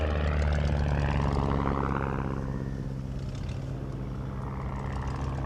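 Vintage light aircraft, among them a Miles Magister, taxiing in after landing at an airfield, with a steady, loud, droning propeller and engine rumble that stays close and continuous throughout.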